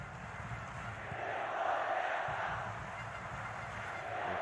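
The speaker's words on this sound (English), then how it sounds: "The crowd just upping the noise again." A football stadium crowd at an Indonesia versus Thailand match roars and swells in volume, a dense distant wash of many voices with honking-like cheers rising toward the middle.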